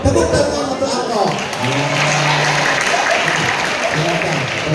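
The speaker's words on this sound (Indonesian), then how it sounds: "Tepuk tangan untuk Akop" Audience applause at a Maulid Nabi gathering at an Islamic boarding school, a steady wash of clapping filling the whole stretch with a speaking voice over it.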